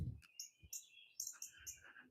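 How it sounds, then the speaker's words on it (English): An unusual-sounding wild bird calling outdoors in Kansas: a series of high, clear chirps and whistled notes that rise and fall in quick bursts. They come through fairly near, with a low thump at the start and no talking. "That's a strange sounding bird."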